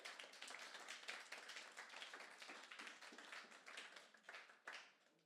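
A church congregation claps in praise of the Lord, a quick, steady run of many hands forming dense applause that carries on for several seconds and fades at the end.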